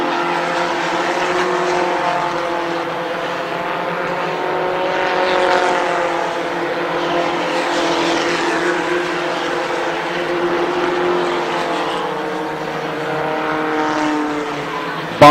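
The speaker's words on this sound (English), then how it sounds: "the 20 of Ott racing with the 19 of Brown and the 13 of Kyle Purvis" Race cars roaring around Columbus Motor Speedway during a main event, several engines droning together in a steady, loud, continuous howl that swells and fades slightly as the pack circles, with no talk over it.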